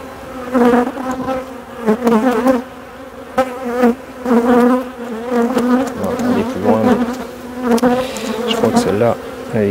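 Honeybee colony with drone-laying workers at a hive on the Mediterranean coast, loud close buzzing in pulsing waves with a humming tone that rises and falls, no talking.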